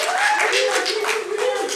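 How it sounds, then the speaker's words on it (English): Wedding guests clap during the toasts, a brisk patter of hands heard beneath a speaking voice. "let's give a round of applause for all of you for coming out to be a part of this awesome event"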